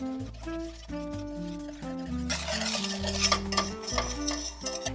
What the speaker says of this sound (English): add 2 egg yolks and 1 whole egg, and whisk together to form this bright yellow paste